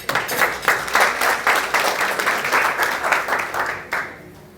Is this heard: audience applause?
yes